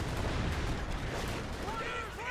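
Pack howitzer fire in a Company of Heroes 2 4v4 match, a dense rumbling blast amid continuous battle noise with distant gunfire, the booming texture carrying through the whole short stretch.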